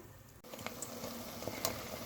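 Quiet, steady sizzling of dough for hanım göbeği frying in oil over medium heat, with occasional faint crackles and pops.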